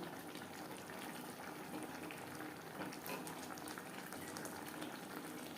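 Fish curry gravy with fried mourola fish and tomato bubbling steadily in a pan, a dense continuous simmering hiss and pop at moderate level with no talk.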